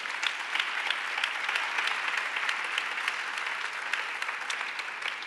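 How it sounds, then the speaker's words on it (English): Round of applause from a university conference audience, many hands clapping in a steady, slightly distant wash with individual claps standing out, sustained throughout with no speech. "join in the round of applause that I'd like you to give each other"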